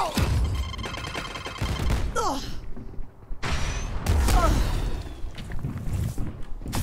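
In a tactical shooter video game, dense bursts of gunfire and explosive effects fill most of the moment, loud and close, with a short lull in the middle and faint voices mixed in.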